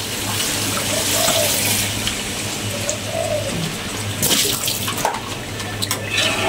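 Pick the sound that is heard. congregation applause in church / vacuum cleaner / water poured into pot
water poured into pot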